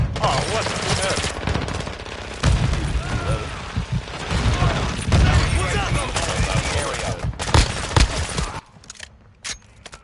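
Dense bursts of gunfire fill a Modern Warfare 2 match, rapid loud volleys repeating for most of the stretch before thinning out near the end, with a player's voice heard faintly underneath.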